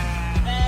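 A sheep bleats in a radio sports-talk station jingle, a brief wavering cry over a sustained musical bed.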